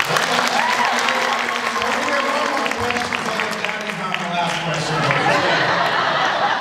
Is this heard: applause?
yes